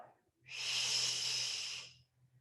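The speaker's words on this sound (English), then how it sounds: "Exhale." A single long exhaled breath during a mat Pilates exercise. The breath is a close, steady airy hiss that lasts about a second and a half, with faint low hum beneath and quiet before and after.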